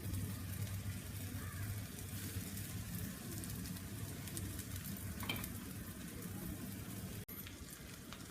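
Ground masala paste sizzles steadily in a hot pan while making curry leaf kuzhambu, with occasional scraping and stirring sounds, one sharp clink near the end.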